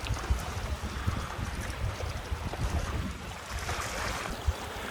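Wind and rough water at an island mooring around sunrise, with the moored boat rocking: a steady, blustery rush with low, rumbling wash and occasional thumps throughout, close and continuous with no talking.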